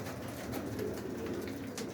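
Pigeons coo in a loft, a steady low murmur of several birds throughout with continuous rustling, no talk.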